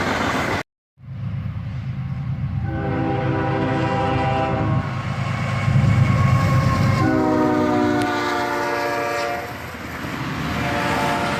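BNSF ES44C4 locomotive leading a freight train past in falling snow, rumbling loud and close with a multi-tone horn sounding in long blasts over clattering wheels, after a brief dropout at the start.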